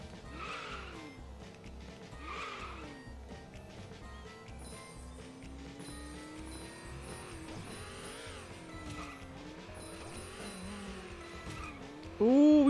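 A car in a Wii racing game drifts with a long tire squeal over a rumbling engine and looping music, a sustained rising-and-falling screech, moderately loud throughout.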